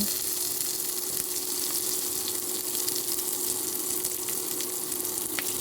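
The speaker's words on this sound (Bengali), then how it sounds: "এখন গরম তেলে কালো জিরা ফোড়ন হিসাবে তেজপাতা শুকনা মরিচ জিরা দিয়ে দিব" Steady sizzle of black cumin, bay leaves, dried chilies and cumin tempering in hot oil, an even crackling hiss with faint pops, no talking.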